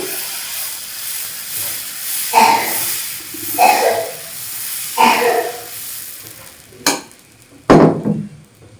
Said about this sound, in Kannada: ಈಗ ಹಾಕೋಣ ದೋಸೆ. ಹಂಚು ಬಿಸಿಯಾಗಿದೆ.